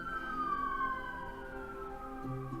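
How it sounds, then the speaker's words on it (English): Police car sirens pass by outdoors, several wailing tones sliding downward in pitch as the vehicles move away, steady and moderately distant with no talk over them. "on my end a bunch of police cars just went by"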